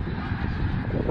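A huge flock of snow geese honks in a dense, loud, continuous cacophony, countless overlapping calls filling the air with no pauses.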